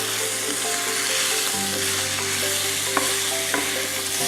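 Tomatoes are stirred into a berbere spice mixture frying in a pan, making a continuous close sizzle with a low hum under it and a couple of soft utensil scrapes near the end.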